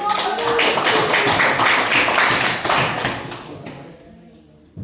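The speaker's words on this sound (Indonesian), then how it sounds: "Oke, tepuk tangan dulu." A classroom of students claps together in a burst of brisk hand clapping that fades out toward the end, leaving near silence.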